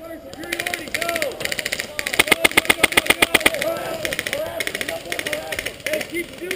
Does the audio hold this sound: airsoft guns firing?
yes